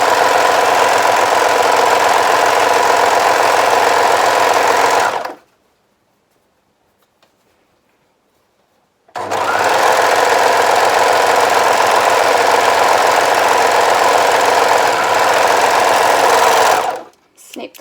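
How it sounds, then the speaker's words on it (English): A sewing machine stitches the side front seams of a dress, chaining from one seam to the next, running loud and steady in two long bursts separated by a few seconds of silence. "I sew down one side, chaining on, and then back up the other"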